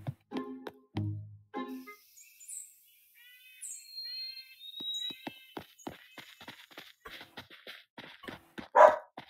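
A dog barking in the cozy video game Spirittea, a few sharp separate yaps amid chirpy game sound effects and soft chimes, with no talking.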